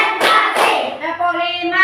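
Children in a classroom clap their hands in time with a teacher's count, two sharp claps close together near the start, followed by a voice speaking.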